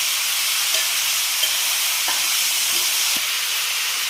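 Chopped onions and green chillies fry in a pan for a Kerala-style egg roast, giving off a steady loud sizzle with a few soft scrapes and taps as they are stirred, and no voices.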